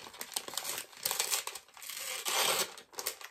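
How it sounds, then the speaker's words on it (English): A small handmade parcel is unwrapped, its packaging crinkling and rustling close up in uneven bursts with short pauses between. "Loads of rustling, but you know how it is."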